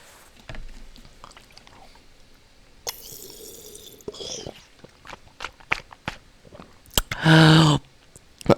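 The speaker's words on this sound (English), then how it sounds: "Actually, I spilled water." Water spills and drips indoors in a few scattered splashes and taps, ending in a louder burst of pouring liquid, with faint background sounds between.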